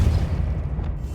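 A Depulso spell goes off in Hogwarts Legacy as a brief, heavy, booming magical blast with a deep rumble that fades quickly.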